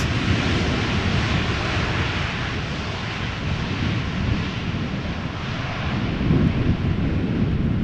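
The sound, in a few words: strong wind at Schiphol Airport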